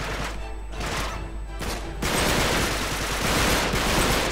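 Dense, continuous gunfire rattles loudly in Uncharted 3, rapid shots blending into a harsh, noisy, glitchy-sounding barrage that intensifies halfway through.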